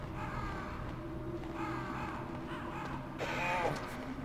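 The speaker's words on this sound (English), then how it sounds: "Stupid crows." A few harsh crow caws sound over a droning background hum in the video game Metal Gear Solid, with one louder call near the end.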